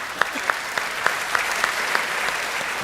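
Audience at a kavi sammelan poetry recital on martyrs applauding: steady, dense clapping throughout with regular sharper claps standing out, close and fairly loud.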